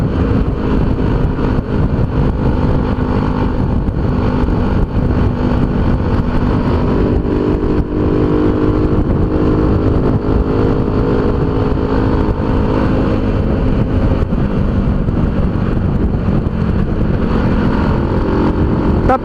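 A motorcycle engine, a GS engine fitted with a Ninja RR carburetor intake manifold, runs loud and close, idling with a rough throb and steady revving for a long stretch, with no voices.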